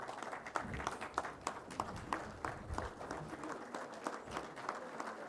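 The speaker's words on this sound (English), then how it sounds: "give a huge round of applause to Honorable Monish Dardaji" An audience standing at an Engineers Day event applauds an arriving honored guest. The clapping is soft, distant and steady, with a slightly rhythmic pulse running throughout.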